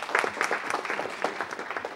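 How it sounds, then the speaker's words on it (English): Brief applause at a city council meeting for youths who led the Pledge of Allegiance, a light, scattered patter of clapping from a modest audience. "please give them a round of applause again"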